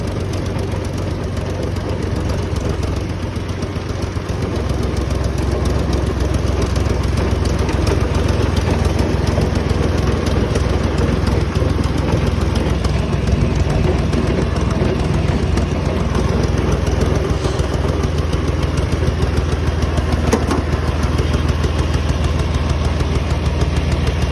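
A tractor engine idles steadily and continuously throughout, a deep, low rumbling drone with no voices.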